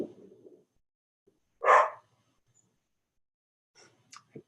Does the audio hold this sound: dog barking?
yes